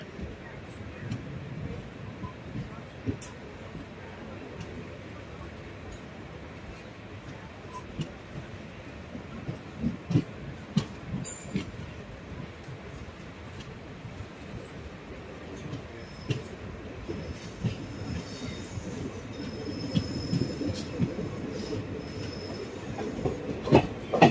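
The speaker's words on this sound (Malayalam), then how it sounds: "കഴക്കൂട്ടം റെയിൽവേ സ്റ്റേഷനിൽ നിന്ന് ട്രെയിൻ എടുത്തിട്ടുണ്ട്" A train pulling out of Kazhakoottam railway station on the Punalur–Madurai Express, a steady low rumble of rolling carriages with occasional wheel squeals and clicks, rising slightly toward the end amid faint background voices.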